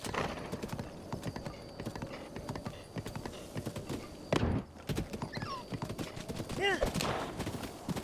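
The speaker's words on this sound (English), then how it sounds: "Nope, that looks like a horse." A horse's hooves clip-clop in a steady galloping rhythm within the video game Zelda: Breath of the Wild, loud and close, with a brief whinny, a few sharp bursts and people talking over it.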